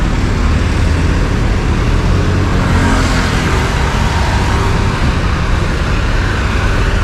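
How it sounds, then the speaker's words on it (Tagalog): Road traffic passes under Jones Bridge over the Pasig River as a dense, continuous roar of cars and heavier vehicles. The rumble is close and loud, with no talking. "traffic dito sa ilalim ng Jones Bridge."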